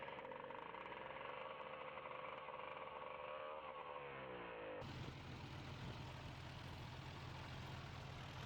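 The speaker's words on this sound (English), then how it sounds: "Yep, a good old 2-cylinder." An old two-cylinder tractor engine runs in Farming Simulator 15, a steady low mechanical drone that shifts abruptly partway through to a deeper, rougher throb, continuous and close with no talking.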